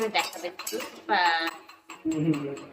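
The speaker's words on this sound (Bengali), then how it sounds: "কড়াইয়ের মধ্যে গরম মশলার ফোড়ন দিয়ে তার মধ্যে দিয়ে দিয়েছে পেঁয়াজ" Whole spices and onions being cooked in a kadai, with a metal spoon clinking and scraping against the pan in bursts and a soft stir between. The clanks are fairly close and distinct, with brief quieter gaps.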